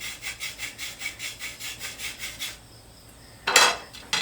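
A carbon arrow shaft for an Easton 6.5mm Hunter Classic hunting arrow is sanded with about a dozen quick, even back-and-forth rasping strokes up close, followed by a pause and a sharp scraping bit of handling.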